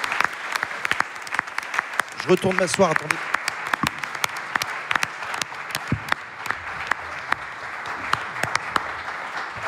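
Applause from an audience at a Paris public debate event, a moderate patter of clapping that carries on for about ten seconds, with a brief spoken voice cutting in near the start.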